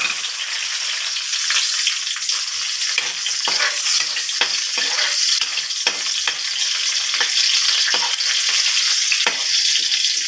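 A small chopped onion sizzles loudly and constantly in hot oil in a pan. Scattered crackles and stirring scrapes run through the frying of a Filipino chicken, okra and string bean sauté. No one speaks.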